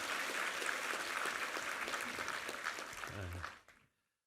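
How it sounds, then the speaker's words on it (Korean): Church congregation claps for the choir during a Sunday worship service, a sustained wash of applause that holds steady, briefly picks up a voice near the end, then cuts off sharply. "우리 이부 성가대 우리 함께 한번 힘찬 격려 박수 한번 부탁합니다"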